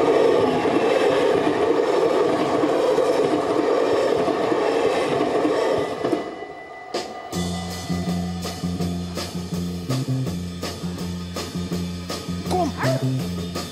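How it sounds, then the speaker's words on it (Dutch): A train rolls past at close range, a steady broadband roar for several seconds, then rhythmic clanking and thumping of wheels over rail joints with harmonic tones. "want er komt een trein aan."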